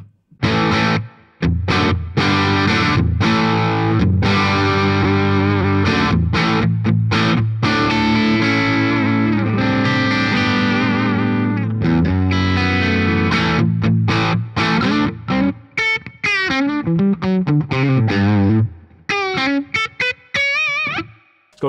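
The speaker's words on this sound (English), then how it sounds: "So if we just wind up the overdrive or the gain control, turn the reverb down, get a really great like classic rock." Electric guitar played through a Victory V4 amp with the overdrive cranked into a classic rock crunch: loud, gritty chords and riffs ringing continuously, ending in a few choppy bends and stabs.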